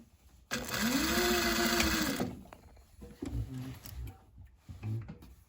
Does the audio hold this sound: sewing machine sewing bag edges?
yes